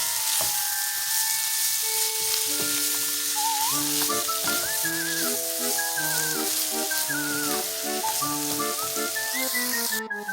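Cheese is stirred and melted into a cheeseburger filling in a frying pan, a soft continuous sizzle lying under louder melodic music.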